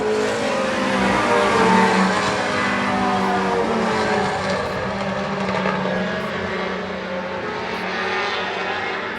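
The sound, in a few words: race cars driving on a track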